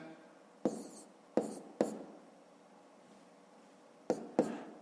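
A pen or pencil writes numbers by hand on paper for a school maths multiplication, giving a few short, close scratchy strokes in quick clusters separated by quiet pauses.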